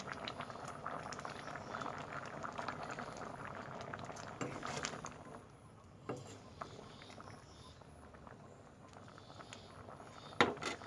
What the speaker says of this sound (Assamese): এতিয়া ধুনীয়াকৈ উতল আহিছে